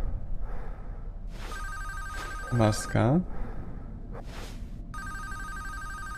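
A telephone rings in a Five Nights at Freddy's fangame, steady electronic trilling tones recurring through the scene, with someone speaking briefly and a short loud creature-like screech in the middle.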